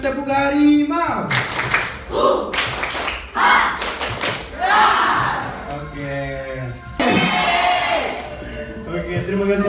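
Junior high school students at a leadership training session perform a rhythmic tiger clap cheer, bursts of sharp group clapping and thumps in a patterned sequence, with voices calling and chanting between the beats.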